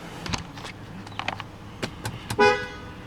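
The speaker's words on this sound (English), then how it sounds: "Honk does work" A short car horn toot from a 2017 Ford Explorer Police Interceptor sounds near the end, after a few soft clicks and rustles, fairly close and brief.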